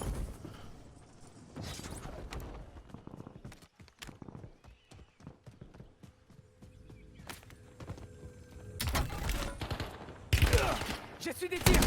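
Gunfire in the Warzone battle royale video game: scattered sharp shots and footstep-like taps build into loud, dense bursts of firing near the end, with occasional voices underneath.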